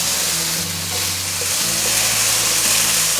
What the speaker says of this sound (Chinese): 继续把素肉条和杏鲍菇炒香，炒到金黄色